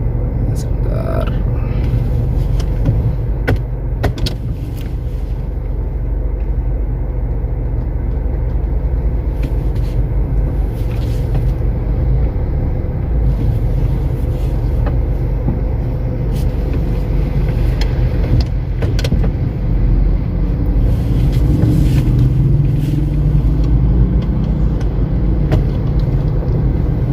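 A 2008 Honda CR-V 2.0 automatic creeping off in drive with no throttle, a low, steady idle hum and faint road rumble from inside the cabin while someone talks throughout.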